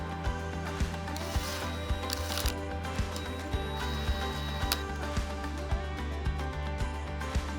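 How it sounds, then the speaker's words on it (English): Screws are driven partway into brick to mount a garden hose hanger, with a hand ratchet clicking in a steady, rapid rhythm over a constant low hum, close and clear. "Now we can fit off each of the screws and just put them in about halfway"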